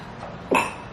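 A short, abrupt sneeze-like burst erupts halfway through, loud and close, with no talking around it.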